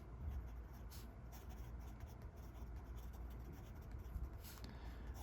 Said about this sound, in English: to make leaves, rather than try to draw individual leaves, I'm going to do really quick scribbles